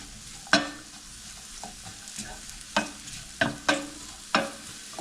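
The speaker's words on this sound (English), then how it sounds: "Just stir them a little bit to get them coated" Seasoned ingredients for hunter's sauce are stirred in a pan, with a soft background sizzle and about eight crisp spoon scrapes and clanks at an uneven pace, up close.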